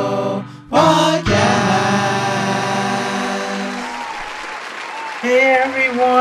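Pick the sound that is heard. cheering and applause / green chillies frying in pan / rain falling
cheering and applause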